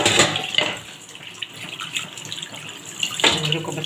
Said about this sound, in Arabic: اوريكم بس تحت الميه الجاريه